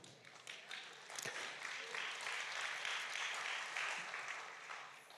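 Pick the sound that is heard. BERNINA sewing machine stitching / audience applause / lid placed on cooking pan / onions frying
audience applause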